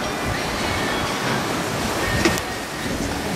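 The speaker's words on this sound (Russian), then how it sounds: "Здесь еще замечательно, прям маленький водопадик есть." Small waterfall trickling down a rock face on the coast near Aktau, a steady close wash of splashing water with a faint breeze, no one speaking.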